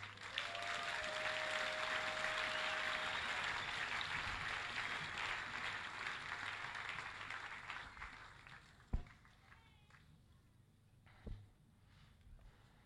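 A church congregation bursts into sustained applause to acclaim God's word, a broad steady roar of clapping that fills most of the stretch before thinning out, with a few isolated claps near the end.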